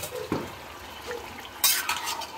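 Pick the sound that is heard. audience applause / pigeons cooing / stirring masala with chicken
stirring masala with chicken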